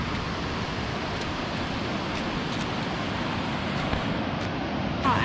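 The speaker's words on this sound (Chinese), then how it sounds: "听到前方瀑布的流水声" Waterfall ahead near an old town, pouring as a steady broadband rush of water that fills the whole stretch without pause, moderately loud and continuous, with no voices over it.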